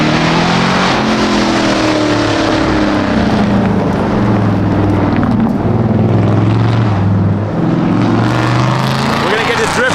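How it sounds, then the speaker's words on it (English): A 2024 Ford Mustang revving hard while drifting, its engine note sweeping up and down in repeated loud, close surges over a constant roar of tire and road noise. "We're gonna be drifting the 2024 Mustang today with Vaughn Jr."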